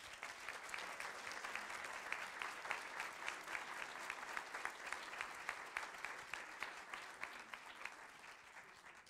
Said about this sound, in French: j'aimerais bien qu'on puisse les applaudir aussi